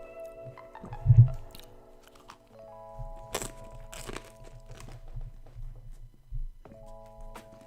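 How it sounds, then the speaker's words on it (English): Someone munching food close to the microphone, with crunchy bites and soft chewing spread over several seconds against faint game music and clicks. "Give me a second, just munching away."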